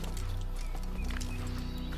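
In Assassin's Creed, a horse's hooves clip-clop in quick rhythm beneath a dense, busy game soundscape with steady low-end music, close and continuous over two seconds.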